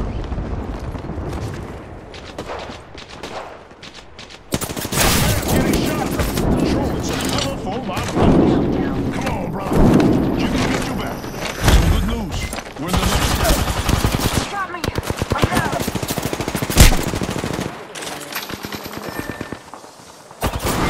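Rapid bursts of automatic gunfire and heavy impacts fill an Apex Legends match, loud and dense for most of the stretch, with voices talking over the shooting.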